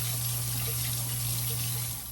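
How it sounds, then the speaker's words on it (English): Cold tap water pouring steadily over cooked lasagna noodles in a sink, a close, constant gushing hiss over a low hum, with no talk. "I'm going to run cold water on them to stop the cooking process"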